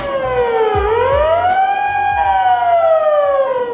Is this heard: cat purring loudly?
no